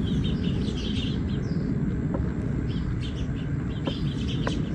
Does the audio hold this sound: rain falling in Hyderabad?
no